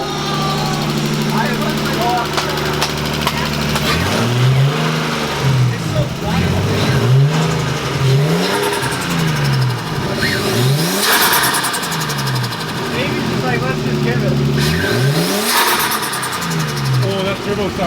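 A turbocharged Nissan RB20 engine in a 180SX idles roughly with a ticking sound, then revs repeatedly in rising and falling bursts, loud and close, with voices talking over it.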